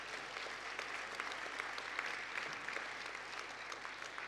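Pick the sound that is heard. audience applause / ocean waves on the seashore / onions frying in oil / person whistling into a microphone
audience applause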